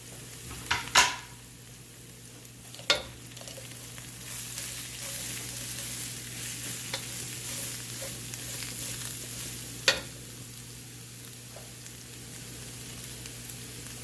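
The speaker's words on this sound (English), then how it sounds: "go ahead and toss your cabbage in" Cabbage tossed into a hot pan, a steady close sizzle and frying hiss running throughout, punctuated by a few sharp clinks of a utensil against the pan.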